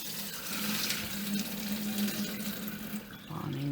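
Water runs and splashes steadily from a tap as soaking water is drained off washed, soaked rice for sweet zarda rice, a continuous close pouring sound with a faint clink near the end.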